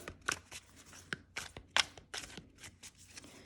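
Quick bursts of tarot cards riffling and slapping together, an irregular run of crisp flutters close to the listener with no talking.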